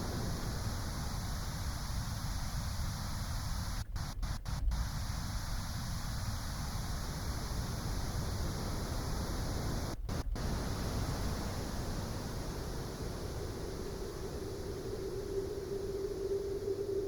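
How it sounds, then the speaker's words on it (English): Pink noise from a Waldorf Quantum synthesizer, a steady, loud hiss held throughout, with its tone gradually shifting and a faint resonant whistle emerging near the end. "So first we've got pink noise."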